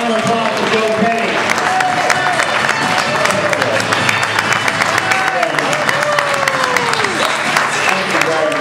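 A party crowd at a political kickoff event claps steadily for several seconds, loud and dense, with cheers and chatter mixed through the clapping.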